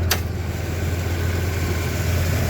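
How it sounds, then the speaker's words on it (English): Nissan Terrano 4WD engine heard from under the open bonnet: a brief starter burst at the very beginning, then a steady, loud, low idle rumble that continues without talk. "start the engine"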